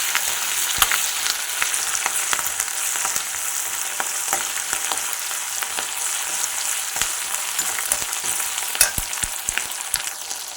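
Onions with ginger garlic paste and curry leaves sizzle steadily in hot oil for a chicken and seppankizhangu gravy, with sharp spatula scrapes and stirring clinks breaking through a dense, continuous frying hiss; no one speaks.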